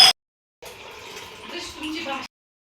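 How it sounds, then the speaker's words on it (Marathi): Water from a clay pot is poured into a glass, giving a soft, steady trickling splash that lasts under two seconds after a brief click and a pause. "आता पाणी घेऊन त्याच्यात टाका."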